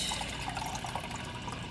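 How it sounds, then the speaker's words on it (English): Water pours steadily into a pan on the stove for semolina uppuma, a continuous splashing, trickling stream heard close up without talk. "I'm going to be adding in the water"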